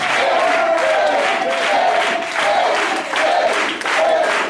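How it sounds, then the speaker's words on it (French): A church congregation at a Sunday service gives a loud, sustained ovation to the Lord, with clapping and cheering that surge in waves and fill the room without pause. "Est-ce qu'on peut donner l'ovation au Seigneur?"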